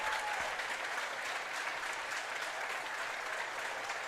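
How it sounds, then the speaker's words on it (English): Crowd applause fills a high school boys basketball gym during a home game, a steady, dense clapping that holds for several seconds at even loudness, building into a standing ovation. "Nice hand from the crowd."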